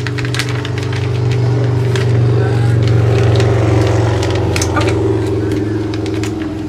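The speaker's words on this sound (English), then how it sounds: "There's a motorcycle coming by." Motorcycle passing by outside: a loud, steady engine drone held throughout, swelling gently toward the middle, with scattered sharp clicks and knocks nearby.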